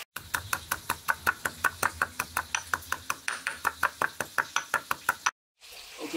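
Rapid, regular pounding thumps close by as pandan leaves are pounded, about two dozen even strikes in a steady rhythm, then a brief silence and faint sizzling.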